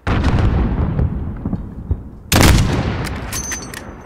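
Loud gunfire bursts and booming blasts in the Call of Duty video game, heavy and dense, with a sharp explosive hit partway through followed by rumbling decay.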